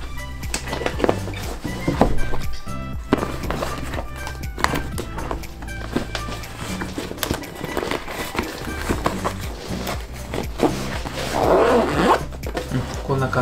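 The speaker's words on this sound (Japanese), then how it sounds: "ファスナーはちょっと力入れなきゃ、締めにくいですね" A zipper being pulled closed on a Chrome Urban Ex 10L sling bag, a series of raspy zipping strokes with handling rustle while a person speaks.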